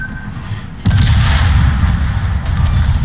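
Ship main guns fire in a World of Warships battle, a sudden loud booming salvo that kicks in and rumbles on with a heavy low-frequency roar and continued gunfire.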